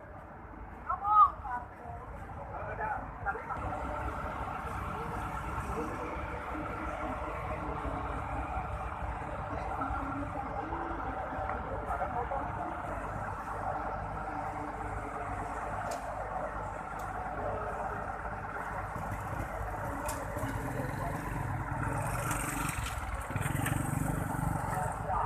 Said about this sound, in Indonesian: Inilah dia situasi bus FRC yang pertama masuk Terminal Polres Pelawat dari Sumatera Barat.